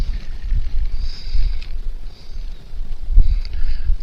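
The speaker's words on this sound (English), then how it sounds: "I checked the weather to see what the wind was blowing, which was gusting to" Strong gusting wind outdoors by a lake rumbles and buffets against the microphone in uneven low surges, rising and falling in waves with a faint hiss above, and no voices.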